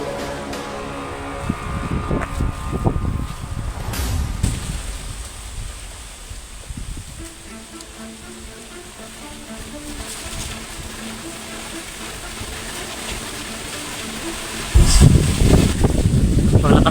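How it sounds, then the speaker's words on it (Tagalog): Gusty wind from an approaching typhoon buffets the microphone, rising and falling over time with rustling and a sharp burst near the end; no clear speech. "Malakas ang hangin dito. May bagyo pa."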